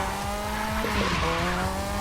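In The Crew 2, a car drifts through open track corners, engine droning loudly with a sustained tire squeal and shifting pitch as it slides, no talk over it.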